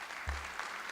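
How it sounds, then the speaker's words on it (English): Audience applause at a school district board meeting, a brief continuous wash of clapping from a crowd. "Please join me in giving these winners another round of applause"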